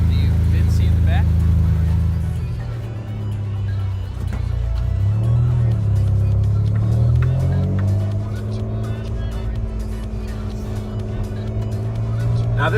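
Engine and exhaust of a 1995 Mazda MX-6 fitted with a Bro Speed muffler and chrome tip rumble and rise in pitch as it revs and drives, loud and close, with a voice talking over it.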